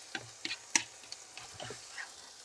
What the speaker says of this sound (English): Can you hear the sizzling, Effie?